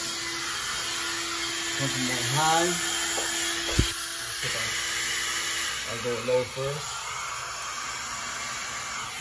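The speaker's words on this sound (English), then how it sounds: "I always mess up with the blow dryer." A blow dryer runs with a steady airy hiss throughout, fairly soft, while people talk over it in short exchanges and a brief knock sounds midway.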